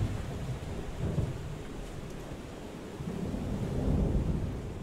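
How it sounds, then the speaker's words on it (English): Thunderstorm in the survival game FAR: Changing Tides, with a steady wash of rain and deep rolling thunder that swells louder toward the end, heard alone without any talk. "It's definitely storming."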